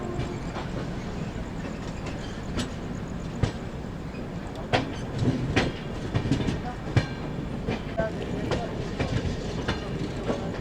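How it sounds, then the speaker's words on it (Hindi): A passenger train leaving New Delhi station shifts from a loop line onto the main line at night, with a continuous rolling rumble and irregular loud clacks as the wheels cross points. "लूप लाइन से मेन लाइन की ओर बढ़ते हुए अपनी ट्रैक चेंज हो रही है।"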